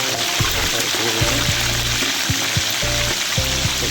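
Whole gourami fish frying in hot oil, Sundanese-style preparation before grilling, with a steady dense sizzle throughout and intermittent low thumps and clatter from handling, close and moderately loud.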